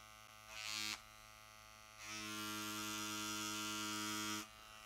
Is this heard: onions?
no